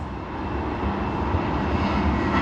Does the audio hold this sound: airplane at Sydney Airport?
yes